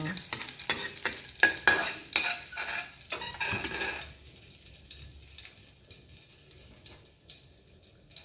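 Garlic sautés in a pan for Thai pineapple fried rice, a bright crackling sizzle with rhythmic stirring scrapes that fades to a quieter, softer fry after a few seconds.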